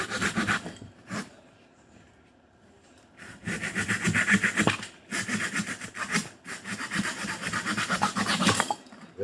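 A hand saw cuts through a piece of soft wood to make a squirrel or bird feeder, close rasping back-and-forth strokes in quick rhythm, with a short pause before sawing resumes steadily.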